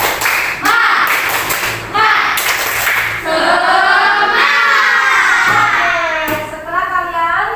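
Schoolchildren in a classroom perform a rhythmic 'tepuk semangat' spirit clap, loud patterned claps mixed with shouted chanting voices that carry through the whole clip.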